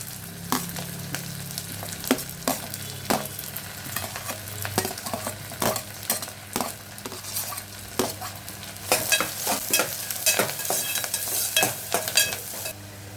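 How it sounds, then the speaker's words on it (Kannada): Onions and curry leaves frying in melted butter in a pan for a bitter gourd and black-eyed bean stir-fry, a steady close sizzle broken by repeated scraping stirs and clicks of a spoon, with no voices. "ಸ್ವಲ್ಪ ಕರಿಬೇವಿನ ಸೊಪ್ಪು ಆನಿಯನ್ ಹಾಕಿ ಬಟರಲ್ಲಿ ಫ್ರೈ ಮಾಡೋಣ"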